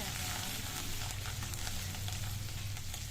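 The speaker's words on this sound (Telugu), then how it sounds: "తాలింపు గింజలు ఎండుమిరపకాయలు వెల్లుల్లి రెబ్బలు కొంచెం కరివేపాకు వేసి ఫ్రై చేసుకోవాలి" Tempering of spice seeds, dried red chillies, garlic cloves and curry leaves fries in oil, a dense, even sizzle and crackle running throughout at low-moderate level with no voices.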